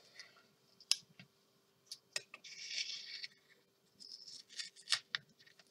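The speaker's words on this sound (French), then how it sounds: "Je vais prendre mes ciseaux." Scissors cut through sticky double-sided tape for an album, making sharp snips and clicks with a longer rasping cut in the middle, close and fairly quiet with a faint steady hum beneath.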